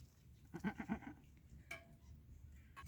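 A goat gives a single brief, quavering bleat, faint and somewhat distant over a low background hum, followed by a couple of scattered small noises.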